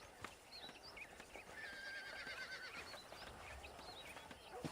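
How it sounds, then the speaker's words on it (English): In the Western video game Red Dead Redemption, a horse gives a long, wavering whinny over the soft clip-clop of hooves, with scattered ambient game sounds around it, moderately close. "Breaking in horses."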